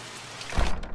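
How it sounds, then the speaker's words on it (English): Heavy rain pours steadily in the horror game The Mortuary Assistant, a dense hiss that swells louder partway through with low rumbling gusts, with no voices over it. "Wow, that rain is really coming in."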